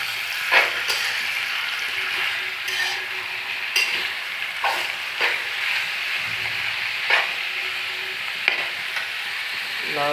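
Radish greens fry in a pan while being stirred, giving a steady sizzle and hiss broken by repeated scraping strokes of the utensil at irregular intervals, close and moderately quiet.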